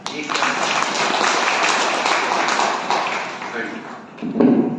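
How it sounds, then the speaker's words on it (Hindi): A crowd claps in sustained, dense applause that fades briefly near the end before a voice speaks over it. "इसलिए आप सबके लिए ताली बजाना"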